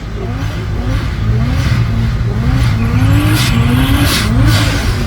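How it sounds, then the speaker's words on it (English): A turbocharged BMW E30 and a naturally aspirated V8 race side by side, engines roaring loud and close with rising rev sweeps and gear changes, a continuous dense drone throughout. "Let's see if he's got something for the E30 turbocharged, taking on aspirated V8."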